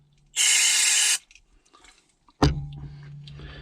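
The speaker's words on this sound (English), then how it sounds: "Normally I'd spray it down here and flush all the old oil and muck away" Liquid sprayed through an ARO or SL2 airpen fossil preparation tool to flush out old oil and muck: a loud, steady hissing burst of about a second, then a sharp clatter and lower, fainter splashing and gurgling.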